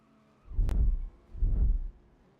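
Two race cars in a racing game at the Codegua circuit pass side by side, giving two separate swelling engine roars, each lasting about half a second, with a brief sharp click between them.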